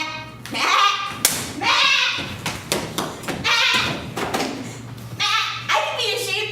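A man imitates a sheep with his voice, giving several wavering bleat-like cries broken up by pauses and thumps, up close in a comedic parody scene.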